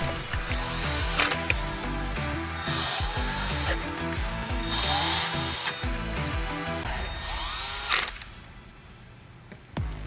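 T20 Torx screws driven in with a hand ratchet while mounting a radio on a 2019–2023 Silverado/Sierra, with repeated bursts of rapid ratchet clicking between pauses and handling clatter, up close, with no talk.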